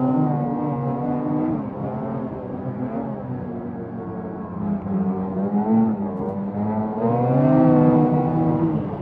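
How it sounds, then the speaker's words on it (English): A racing car engine hums steadily from inside the cabin at moderate load while driving, with its pitch rising and falling through gear changes and swelling louder near the end. "I'm always so fascinated with how easy this car is to drive"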